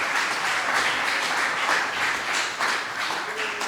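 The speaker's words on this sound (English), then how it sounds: "let's give him another round of applause" An audience at a Srila Prabhupada festival gives a sustained round of applause, steady dense clapping throughout with faint voices barely present.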